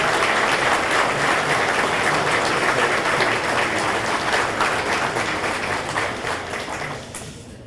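An audience in a high school gym or auditorium applauds North Hardin High School Athletic Hall of Fame inductees, a broad steady roar of clapping that holds strongly, then thins and fades out near the end.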